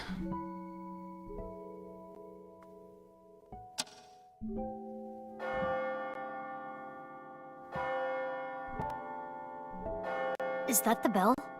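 Church bell tolls at midnight in the video game AI: The Somnium Files nirvanA Initiative, several long ringing strikes with sustained overtones, loud and close, with a brief voice near the end.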